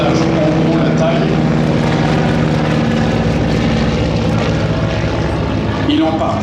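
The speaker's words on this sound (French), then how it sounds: "Il en partage le moteur, le Pratt & Whitney R985 de 450 chevaux." A Max Holste Broussard with a Pratt & Whitney R985 radial engine drones loudly and steadily at an air show, its propeller roar constant throughout while a commentator speaks over it.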